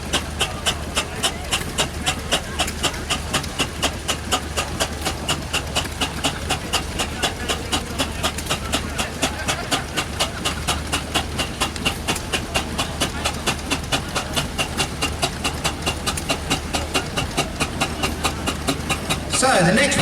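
A steam traction engine on a Sussex steam fair ground chuffs in a fast, even rhythm that holds steady and close throughout, with a brief louder burst near the end.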